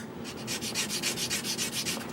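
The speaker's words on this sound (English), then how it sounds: "I'm sanding it down a bit" Steady rhythmic rasping of sandpaper rubbed back and forth on a push button from a Philco 39-30 radio, about a dozen close, even strokes with no talking.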